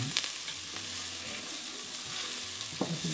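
Vegetables frying in a pan with olive oil, a steady close hiss of sizzling with a couple of light stirring knocks, no talking.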